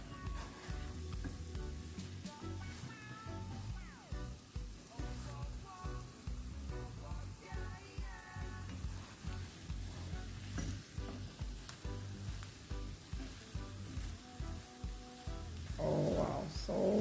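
Scrambled eggs fry and sizzle steadily in a pan while being turned and stirred, with dense crackling and frequent scraping strokes running throughout at close range, no voices.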